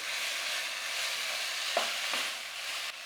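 Spices are stirred into chicken karahi frying in a pan, a constant close sizzle with a couple of soft scraping strokes of the spoon partway through.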